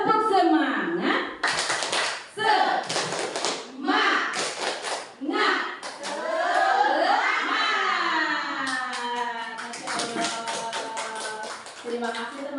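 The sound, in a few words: group doing a rhythmic spirit clap (tepuk semangat)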